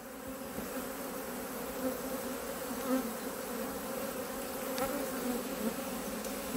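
Steady, low buzzing of many honeybee drones around the front of a hive fills the air continuously, a dense droning hum with no voices.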